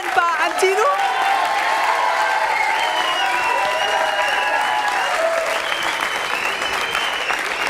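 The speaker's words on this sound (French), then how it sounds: "il va falloir t'habituer aux applaudissements du public" An audience applauds the winners of a sports dance competition, steady full applause throughout with a few light cheers, while a presenter's voice and music run over it.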